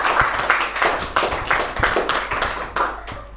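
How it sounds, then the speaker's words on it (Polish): A small group claps after a discussion event, a short burst of loose, uneven hand claps close by that thins out after a few seconds. "Wielkie brawa!"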